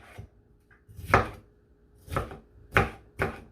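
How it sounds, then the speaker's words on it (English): Bell pepper, Scotch bonnet, garlic and onions being chopped for Jamaican oven jerk chicken give four or five sharp, close knife thuds on a cutting board at uneven intervals, separated by quiet, with no talking. "So I'm gonna cut these up."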